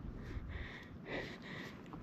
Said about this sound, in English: You can have a sniff